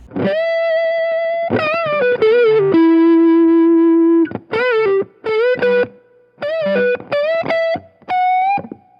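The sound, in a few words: guitar through John Mayer tone overdrive pedal alone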